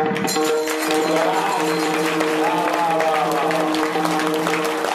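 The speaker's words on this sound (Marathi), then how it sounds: "एकदा जोरदार टाळ्या वाजवा" A kirtan audience applauding, a continuous dense clapping from a gathered crowd over a sustained tonal drone and faint voices, fairly loud and steady throughout.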